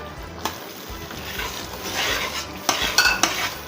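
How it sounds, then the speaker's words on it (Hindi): Biryani masala, salt and red chilli roast in a pan while a spoon stirs and scrapes against the metal. A continuous frying sizzle runs underneath, with a few sharper clinks near the end. "और इसकी 2 से 3 मिनट हम करेंगे भुनाई, ताकि मसाले हमारे अच्छे तरीके से कुक हो जाएं।"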